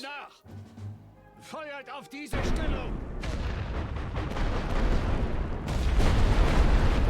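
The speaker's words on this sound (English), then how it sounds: "And then we'll do some rolling barrages to cover our guys." Rolling artillery barrage in a WWI strategy video game on the Western Front, heard as continuous heavy booms and rumbling blasts that build from about two seconds in and stay loud and dense to the end, after brief tonal game sounds at the start.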